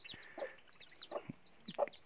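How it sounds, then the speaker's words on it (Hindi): A rooster and hens cluck in short, repeated bursts at a moderate distance in a village, with no talking. "बड़ा मुर्गा इधर है और बाकी मुर्गियां सब इधर है"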